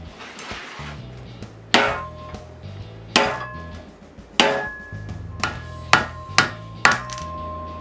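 Bearings taken off the cutter head of a wooden Woodpecker EP 44 jointer: a series of sharp metallic taps and clinks, close and spaced irregularly, rising to several quick strikes near the end, over a faint low hum.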